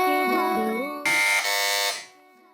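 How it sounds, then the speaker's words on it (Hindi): A quiz-show buzzer pressed by a team in a children's Islamic program, a loud, steady electronic buzz lasting about a second that follows a sung phrase and then fades. "जी, तो इस बार सबसे पहले बज़र बजाई है टीम बी ने।"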